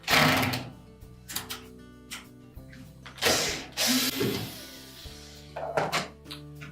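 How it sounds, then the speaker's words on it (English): Socket wrench ratcheting out the three mounting bolts on a Whirlpool washer drain pump, with bursts of clicking and metallic clatter separated by short pauses, fairly quiet and close. "They're either a number 12 millimeter socket or a number 3 Phillips screwdriver. We'll remove those 3 bolts."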